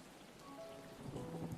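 Rain pours steadily in a dense, hissing wash with scattered drops and a low rumble beneath, continuous and fairly close, with no voices heard.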